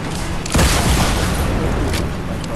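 Rocket explosions in a first-person shooter video game, a loud booming blast near the half-second mark followed by sustained rumbling, dense noisy bursts that carry to the end.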